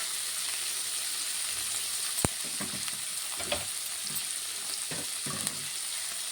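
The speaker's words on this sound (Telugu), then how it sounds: "ఓకే, ఇలాగే అన్నీ 1 బై 1 ఫ్రై చేసుకోవాలి." Capsicum, onions and curry leaves fry in a pan, a continuous soft sizzle broken by several light scraping stirs and one sharp tap of the utensil.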